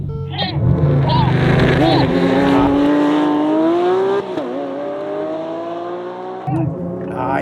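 V12 Lamborghini Aventador Ultimae and V12 Ferrari 812 Competizione launching side by side on an unprepped runway in a drag race, engines revving hard with a rising, wailing pitch as they pull away, loud and close.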